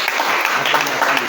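A church congregation applauding during a Sunday worship service, a loud, dense, steady wash of clapping from many hands filling the room without pause.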